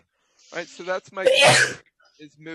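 A single loud, explosive sneeze bursts out in the middle of a person speaking, with talk continuing before and after it.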